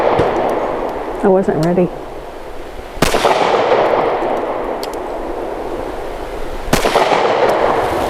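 Two loud, sharp shots from a Stoeger STR 9C pistol, spaced several seconds apart, each with a quick echoing decay, and a short spoken remark between them.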